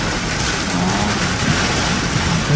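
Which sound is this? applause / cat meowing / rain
rain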